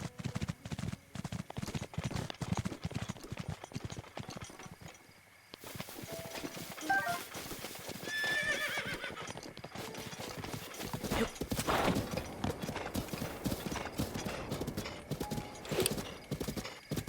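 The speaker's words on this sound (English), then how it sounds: "Only 2 horses there." Horses in Zelda: Breath of the Wild, hooves clip-clopping in a steady trotting rhythm with an occasional whinny, soft and fairly quiet, with a brief gap partway through.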